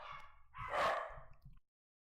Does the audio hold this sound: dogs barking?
yes